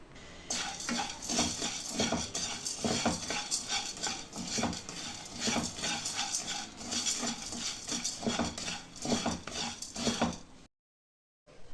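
Black pepper and cumin dry-roast in a pan, with rapid rattling, scraping strokes of a stirring utensil against the metal, close and steady, and no speech.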